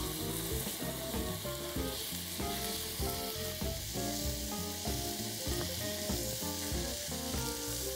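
A tomahawk steak sears on a hot salt slab, giving a steady, even sizzle that runs throughout with tonal music playing underneath and no talk.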